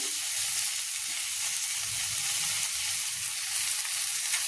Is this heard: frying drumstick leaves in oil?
yes